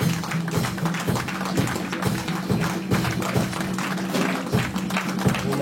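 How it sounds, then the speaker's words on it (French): A church congregation stands and applauds the Lord together, a steady, full wash of clapping from many hands with soft rhythmic thumps running underneath. "je vous demande de se lever et acclamons le Seigneur"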